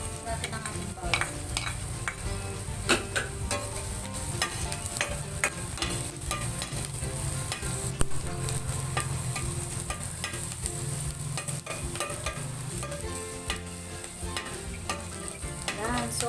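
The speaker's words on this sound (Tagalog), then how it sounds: "Natin ang ating bawang." Garlic sizzles steadily in a hot pan while being stirred, with scraping and clicking from the utensil over a constant frying hiss, close up and without any voices.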